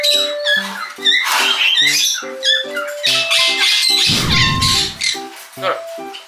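Green-cheeked conures at a rescue shelter housing over two hundred parakeets, squawking in rapid, repeated sharp calls close by, with a person talking and a brief clattering noise in the middle.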